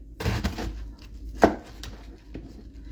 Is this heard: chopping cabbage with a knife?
yes